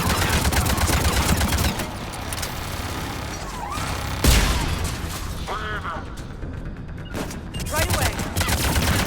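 Turret gunfire in Mass Effect 3, bursts of rapid shots that are loud at the start, thin out, then return, broken by a sharp impact partway through and mechanical whirs.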